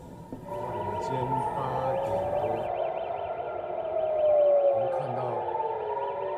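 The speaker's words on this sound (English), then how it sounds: "Sirens rang across Israel as people were told to rush to bomb shelters." Air raid sirens wail across Israel during an Iranian missile attack, a loud, sustained rising-and-falling siren tone with a rapid warble, continuous for the whole stretch.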